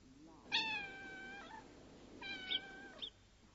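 A pregnant cat playing with a blade of straw gives two drawn-out, plaintive meows, fairly close over a quiet background.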